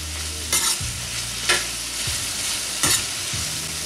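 Sautéed vegetables, seasoned with salt and pepper as a side for tuna steak, sizzle in a pan under a steady hiss, while three distinct scraping stirs of a utensil cut in at regular intervals, close up and without talk.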